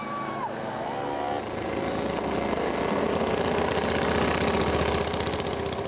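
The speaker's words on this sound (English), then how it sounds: "And here is Otto again with 2 cylinders on the way to 3rd place." Two-cylinder vintage racing motorcycle at a hill-climb road race, its engine rising in pitch and growing louder as it accelerates, a steady close roar with a rapid pulsing beat.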